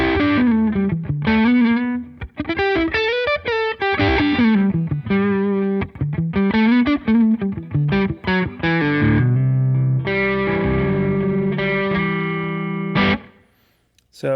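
Electric guitar driven through the Prize Drive overdrive on a Line 6 Helix, loud, gritty melodic phrases and sustained chords played continuously for about thirteen seconds before cutting off.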